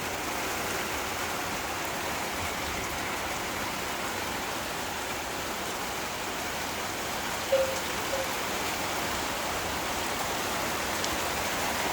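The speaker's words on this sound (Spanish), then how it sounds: "Como llueve, ¿eh?" Heavy rain falls steadily and continuously, a dense hiss of drops with water running off nearby, one brief knock partway through and no voices.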